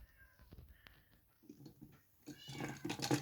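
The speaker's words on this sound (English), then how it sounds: "It'd be very nice if my cat stopped meowing" A house cat meows several times nearby, with short calls early on and then louder, drawn-out cries toward the end, heard in a quiet indoor room.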